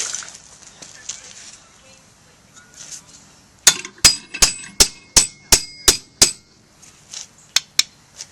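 Sharp metallic hammer blows ring out as a metal bar held in a vise is bent, a quick, even series of about ten strikes, close and loud, after quieter shuffling and faint talk.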